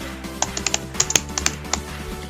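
Typing on a computer keyboard while formatting a table of contents with tab stops, heard as a quick, uneven run of crisp key clicks close to the microphone, with a low steady hum underneath and no talking.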